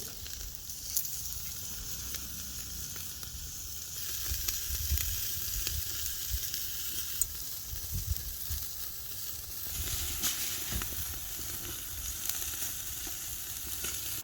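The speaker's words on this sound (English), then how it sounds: "For my steaks, I'm just gonna sear until the color is good." Steaks searing on a Fornetto drum smoker give a steady, crackling sizzle with no talk, holding level for the whole stretch, with brief pops scattered through it.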